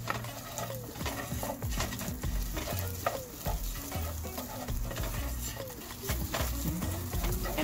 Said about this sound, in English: Just make sure you're continuously stirring it, because otherwise the onions are gonna get burnt